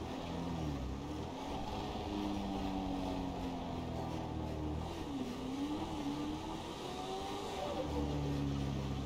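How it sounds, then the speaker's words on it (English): A lifted Chevrolet Silverado pickup engine with an LS swap in GTA 5 rumbles steadily, its pitch rising and falling as it revs and shifts, loud and continuous with no pauses. "Well, that engine sounds crazy,"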